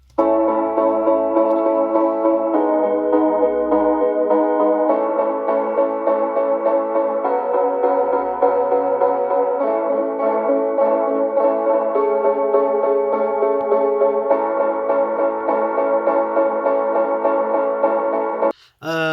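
Mellow piano chords play steadily with a swirling, sweeping flanger effect and thinned lows and highs, continuous and alone for the whole stretch.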